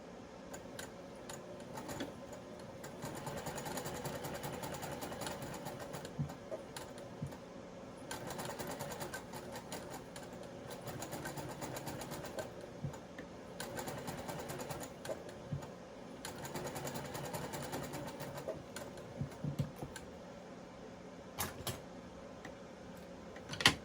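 A sewing machine runs a long gathering stitch on doll blouse fabric, its needle chattering in a fast steady rhythm through several sustained runs with brief slowdowns, close and moderately loud, with no talking.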